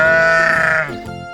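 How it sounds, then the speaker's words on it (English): A single sheep gives one close, loud, wavering bleat that lasts just over a second before trailing off. "Sheep."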